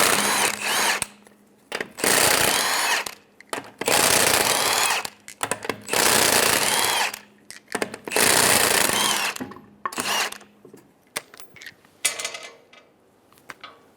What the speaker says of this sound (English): Using a 19mm socket, we're going to remove the lug nuts.